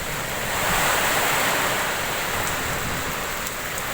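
A constant roaring wash of strong wind with rain fills the scene, loud and broadband, blustering steadily without a break and with no voices.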